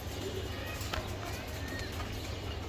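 Racer pigeons, including a male bred from Netherlands stock, give low, muffled coos in a loft-side sale, faint under steady background noise.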